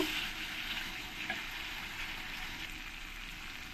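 Fried potatoes tossed into a simmering chicken curry and stirred, a dense continuous sizzle filling the pan with faint stirring scrapes, close and steady with no voices.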